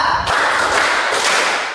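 A classroom or group session in Indonesia breaks into a burst of many hands clapping together, starting abruptly after a brief pause and continuing as a dense, fairly loud wash of claps.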